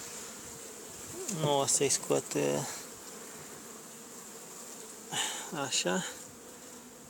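Honey bees buzz in a steady, faint drone over an open beehive as the frames are being checked. Someone speaks briefly twice over the hum.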